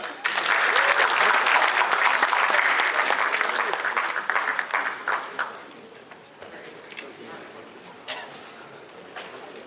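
A synagogue congregation at a rabbinic installation ceremony gives a big round of applause, loud and dense at first, then thinning into scattered claps that fade away.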